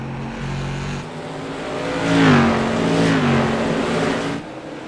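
An SK Modified race car in iRacing revs hard with big RPMs down the backstretch at Thompson Speedway, a loud, continuous engine howl whose pitch rises and falls across the whole stretch.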